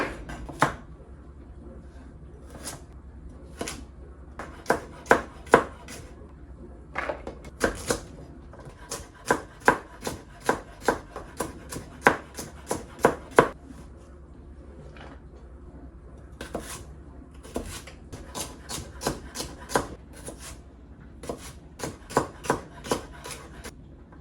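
Knife chopping three carrots and a celery stalk on a cutting board in a home kitchen, irregular sharp taps in quick bursts with short pauses, close and fairly loud, no talking.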